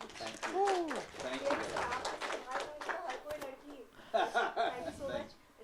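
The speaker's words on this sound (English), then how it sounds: "Can you please clap?" A crowd claps at a film press meet, a scattered burst of applause mixed with lively overlapping talk and voices, fading and then rising again in a second round of claps.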